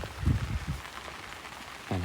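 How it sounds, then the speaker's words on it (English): Heavy rain pours steadily onto surfaces outdoors on a grim day, with a constant drumming patter under bursts of nearby talk. "it's pissing down with rain"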